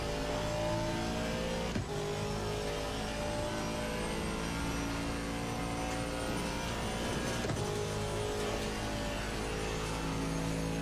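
Aston Martin V8 Vantage race car in Assetto Corsa Competizione holding a steady loud engine roar under full power, with a brief gearshift blip partway through and no voices.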